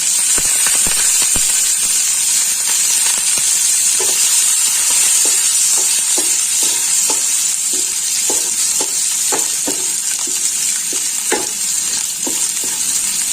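Garlic frying in hot oil gives a loud, continuous sizzle, with regular light scrapes and taps as it is stirred in the pan.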